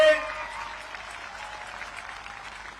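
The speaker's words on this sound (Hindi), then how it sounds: "ताली बजाओ सभी लोग प्रमोद के लिए" A rally crowd at a BJP gathering in Santirbazar applauds candidate Pramod Riyang, steady massed clapping from many hands after a brief spoken cue, sustained and fairly loud throughout.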